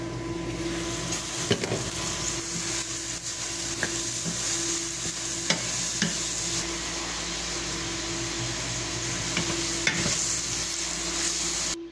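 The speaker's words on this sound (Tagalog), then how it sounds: "Tapos ipiprito natin to guys." Dredged chicken pieces fry in hot oil with a dense, continuous crackling sizzle, close and fairly loud, with occasional sharp clicks and a low steady hum underneath.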